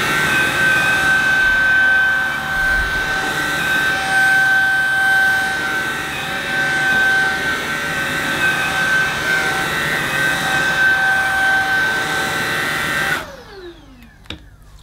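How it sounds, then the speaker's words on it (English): A Shark vacuum cleaner runs with a loud, steady whine and a constant mechanical drone, then cuts off abruptly near the end, leaving near silence. "I'm going to get the Shark and show you what I'm using as my daily vacuum"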